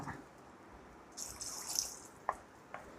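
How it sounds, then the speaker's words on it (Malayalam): Water poured into a simmering pot of ivy gourd (kovakka) curry with kudampuli: a brief soft splashing pour, then a couple of faint drips and small liquid ticks, quiet and close. "കുറച്ചും കൂടി വെള്ളം ഒഴിച്ച് കൊടുക്കുക."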